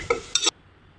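Two quick metallic scrapes of a spoon against a pan while onions are stirred over a low flame, close and crisp, then near silence.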